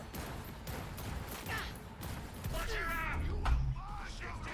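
Rifle gunfire in the Cyberpunk 2077 video game comes in scattered bursts and cracks, partly buried under a voice speaking over the action.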